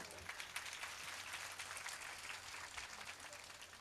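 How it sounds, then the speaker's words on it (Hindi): A devotional audience at a Shri Ram Katha gathering in Giridih, Jharkhand, gives thin, faint applause, a soft and distant patter of clapping that stays even and subdued throughout. "कमजोर तालियां है ये तो।"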